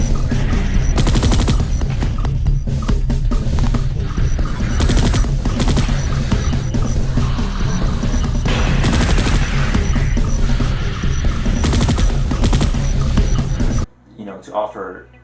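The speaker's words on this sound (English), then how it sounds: "So another super classic thing is the sentry guns" Sentry guns in the sci-fi shooter Space Beast Terror Fright fire in a loud, dense automatic stream of rapid shots with booming impacts that continue unbroken for about fourteen seconds, then cut off abruptly while a voice speaks briefly.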